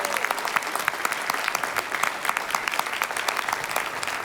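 Audience applause at the 2009 Full Sail University Hall of Fame induction ceremony, honoring educators. The dense, steady clapping comes from a hall crowd and holds at an even level for several seconds.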